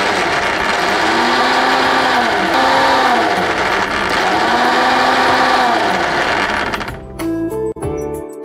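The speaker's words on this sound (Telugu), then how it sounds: "నెక్స్ట్ ఇప్పుడు మిక్సీ పట్టేసుకోవాలి." A kitchen mixer grinder whirs steadily, grinding raw ivy gourd with salt for a chutney, its motor pitch rising and falling in cycles before cutting off abruptly near the end, followed by a few clatters.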